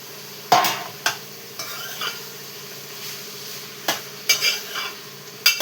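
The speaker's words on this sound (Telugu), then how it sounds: "ఇప్పుడు ఆనపకాయ బీరకాయ ముక్కలు వేసేసుకుందామమ్మ." Bottle gourd and ridge gourd pieces stirred in a pan, with steady low sizzling under several sharp scrapes and clinks of a spoon against the pan, mostly alone without speech.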